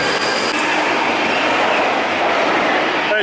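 A train rumbles steadily past at close range, a dense, continuous roar of wheels and carriages with faint metallic clatter throughout.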